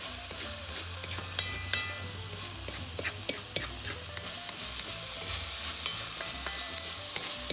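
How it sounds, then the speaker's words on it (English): Spanish creamy rice is stirred in a hot pan, a constant sizzle broken by frequent scraping strokes and light knocks of the utensil against the pan, close and fairly loud. "Just mixing it up for a minute or two."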